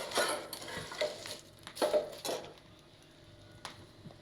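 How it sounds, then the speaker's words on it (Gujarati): Chickpeas roasting in a hot pan, with several scraping stir strokes and soft sizzling that rise and fade in bursts, then settle into a quieter crackle near the end. "અહીંયા ચણા શેકાય છે ગરમ ગરમ"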